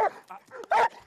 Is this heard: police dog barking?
yes